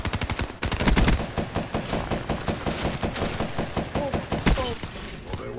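Rapid gunfire in Black Ops 3 Gun Game: a loud, fast automatic burst of evenly spaced shots running almost continuously, with brief pauses between strings of fire.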